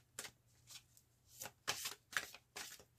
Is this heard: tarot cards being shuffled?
yes